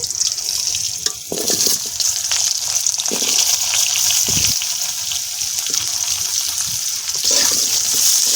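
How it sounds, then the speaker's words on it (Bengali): Diced potatoes and dried red chillies frying in oil left from frying sea chela fish, a steady close-up sizzle and bubbling that carries on without a break. "মাছ ভাজা তেলে দিয়ে দেব শুকনো লঙ্কা, দিয়ে দেব কেটে রাখা আলু"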